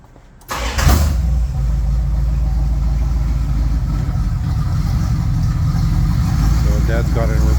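A Bombardier snow plow engine cranks and catches about half a second in, then settles into a loud, steady idle close by.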